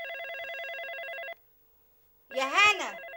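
A telephone bell rings in a steady trilling burst that stops, followed after a short silence by a person speaking.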